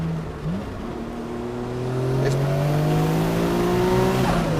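Nissan R32 GTR engine revving under throttle, a steady, loud rising drone with harmonics climbing smoothly as revs build for several seconds, no talk over it.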